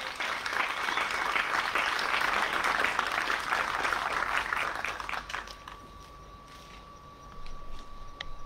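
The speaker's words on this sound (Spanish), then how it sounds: "Voy a pedir un fuerte aplauso para la gran Lalo" An outdoor crowd at a poetry slam in Montevideo's botanical garden applauds for a poet, dense loud clapping for about five seconds that thins to scattered claps and quieter murmur with a faint tone.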